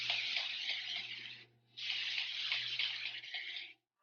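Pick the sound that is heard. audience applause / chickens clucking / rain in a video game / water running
water running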